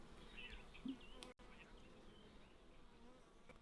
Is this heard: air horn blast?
no